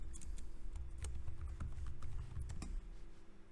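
Quiet, uneven clicking of keys on a computer keyboard as a word is typed, soft close taps over a low steady room hum.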